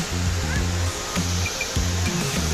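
Rushing water roars steadily at Hogenakkal falls in Tamil Nadu, a loud continuous wash under brief bursts of nearby voices.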